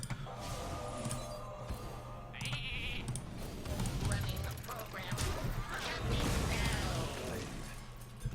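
Sheep bleats in the card game Hearthstone sound repeatedly amid busy game effects, with bursts of popping and clatter layered over a steady low hum.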